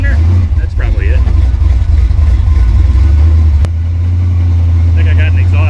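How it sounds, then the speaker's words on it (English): A car engine with an exhaust leak idles loudly with a steady low rumble and slight puffing roughness, while a person talks briefly over it. "I think I got an exhaust leak."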